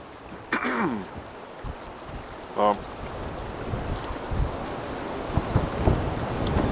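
Wind blows steadily at a lake, roaring and buffeting against the microphone as a rough continuous rush, broken by a couple of short vocal sounds and a sharp gust near the start.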